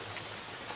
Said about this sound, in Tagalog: Isang maulan na tanghali.